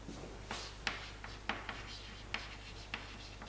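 Pen or pencil writing on paper while working through a chemistry calculation, with soft scratchy strokes and a few sharper taps, fairly quiet and close, with no talk over it.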